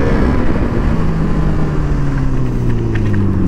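A motorcycle engine runs loud and close on a road, a steady low rumble with a slowly falling pitch, heard alone without talk.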